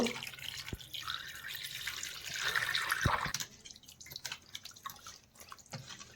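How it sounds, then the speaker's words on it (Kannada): Fish being washed with buttermilk and water in a village kitchen, splashing and running water with a few distinct drips, close and moderately quiet, calming to sparse trickles toward the end. "ಒಂದು ಸ್ವಲ್ಪ ಮಜ್ಜಿಗೆ ಹಾಕಿ ತೊಳ್ಕೊತೀನಿ ನಾನು"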